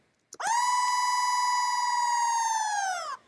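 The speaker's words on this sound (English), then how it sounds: "as soon as I heard that siren sound" A single sustained electronic siren tone holds one steady pitch for about three seconds, then drops off slightly at the end; nothing else is heard.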